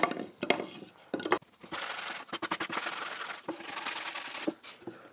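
Rough, rhythmic scraping of a sanding sponge rubbed back and forth on a surface, in bursts with short pauses, close and fairly loud.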